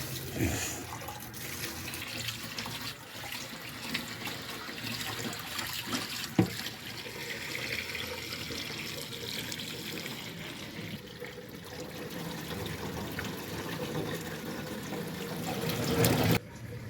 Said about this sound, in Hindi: चले जी जाते हैं नलके की तरफ, चावल धोते हैं।